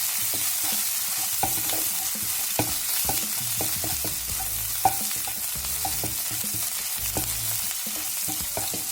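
Crushed garlic and green chilli fry in a hot pan and are stirred with a utensil, giving a steady bright sizzle broken by frequent light scraping taps, with no talking.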